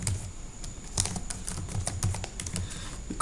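Close computer keyboard typing in a quick burst of clicky keystrokes, uneven in rhythm, alone in a quiet room.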